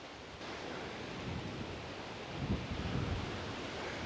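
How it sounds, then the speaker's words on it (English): Strong gale-force wind roars steadily across the beach at Padangbai, Bali, a broad continuous rush with surf-like swells and gusts buffeting the microphone, loudest around the middle and staying dense throughout. "It's blowing a gale, it's windy"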